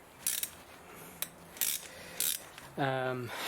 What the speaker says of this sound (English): Then I use the gun just to do it quickly.